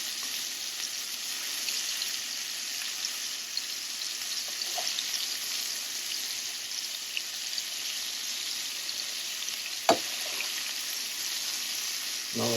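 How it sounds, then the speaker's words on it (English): Pork loin sizzling in a frying pan, browning to a crust, gives a steady bright hiss of frying fat throughout, with a few faint clinks and a sharper tap near the end, no talking. "the pork loin has been on the frying pan for about 10 minutes"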